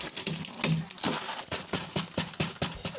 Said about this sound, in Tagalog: Limpak-limpak na barya.